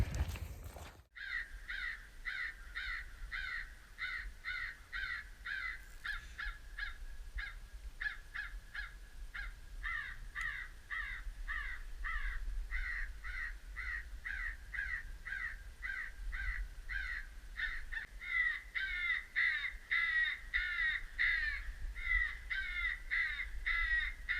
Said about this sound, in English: I can already hear crows out in the distance